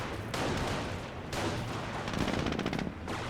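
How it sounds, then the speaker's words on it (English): A jeep's machine gun rattles off sustained bursts of rapid fire in the Company of Heroes strategy game, loud and dense with battlefield noise beneath and no voices. "Jeep firing a little bit of volley there"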